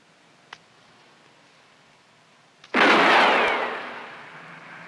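A single loud gunshot bursts out close after near silence and a couple of faint ticks, its roar decaying slowly over the following two seconds.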